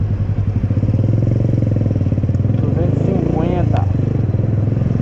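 A 2010 Suzuki Yes 125 motorcycle engine hums steadily at close range while being ridden in São Paulo, its low rhythmic drone continuous throughout, with someone talking over it.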